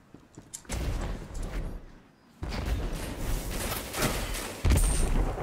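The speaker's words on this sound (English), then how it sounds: "That was a bad grenade." A grenade in Destiny 2 goes off in a loud blast, with more booms and gunfire-like bursts of combat following closely.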